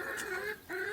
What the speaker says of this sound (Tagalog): Nagkakakak sila.